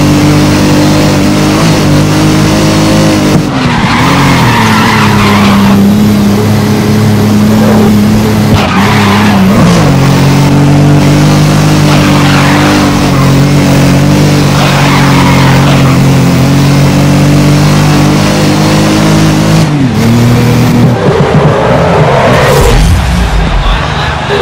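Race car engines in a Grid modified street tour race on the Shanghai street circuit, a loud, sustained engine drone that dips at gear changes, with bursts of tire squeal and skidding throughout.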